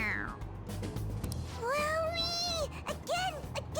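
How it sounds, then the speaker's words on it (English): A toy cat squeaks out a few synthetic meows as its head is pressed, rising and falling electronic cries over a background of game music and other noise. "It meows when you press on its head."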